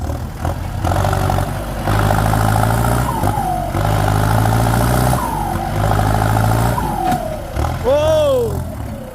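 Massey Ferguson 6640 tractor engine laboring as it plows hard soil: a loud, low droning rumble that rises and falls under load, with whining tones and people talking over it.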